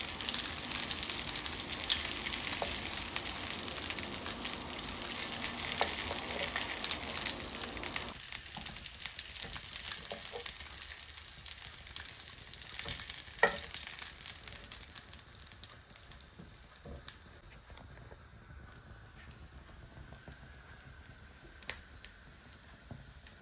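Minced-meat kebabs fry in oil in a frying pan, giving a steady close sizzle that is louder at first, then eases to a softer crackle with scattered pops and light scraping of turning.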